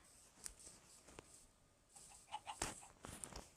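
Video game chickens cluck in short, scattered bursts, quiet and somewhat distant, mixed with soft rustling and a few brief chirpy notes.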